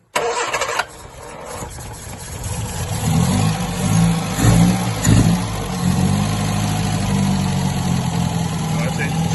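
A classic Sunbeam Rapier fastback's engine, being recommissioned, turns over and catches, then runs steadily with a low rumble, rising briefly in a couple of revs before settling back to a fast idle.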